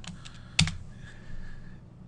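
Typing on a computer keyboard while entering a version query after a URL for an X-Cart 4 Classic store, with one sharp louder keystroke standing out among softer, faint clicks in a quiet room.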